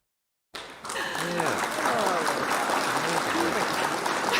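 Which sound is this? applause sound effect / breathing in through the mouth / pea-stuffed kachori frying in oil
applause sound effect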